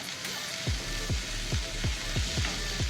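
Onions, garlic and ginger sauté in a pan for a squid thoran, a steady close sizzle broken by regular stirring strokes roughly every half second, with no talk.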